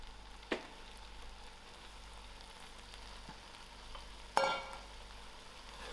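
Pot of chilli sauce cooking as lemon-sprinkled apple slices go in, a low steady sizzle with two sharp knocks of a utensil against the pot.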